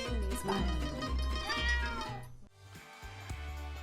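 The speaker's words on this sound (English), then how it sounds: "A cat in the studio always leads to the most curious surprises." A cat meows several times in a TV studio, its cries loud and near over a steady low hum, with a short gap partway through before more meowing.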